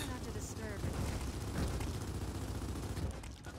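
Rapid gunfire crackles and rattles continuously through a video game firefight, a dense steady barrage at fairly constant loudness with a voice speaking briefly over it.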